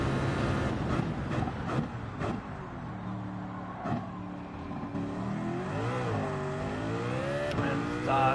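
Race car engine in Gran Turismo 7 racing, its note rising and falling through gear changes and throttle lifts, loud and continuous with sweeping harmonic climbs across a lap.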